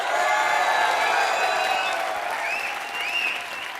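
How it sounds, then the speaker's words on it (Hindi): Loud, sustained applause from a studio audience on a Hindi comedy talk show, a dense wash of clapping that fades slightly toward the end, with a few whistles mixed in. "जोरदार तालियां"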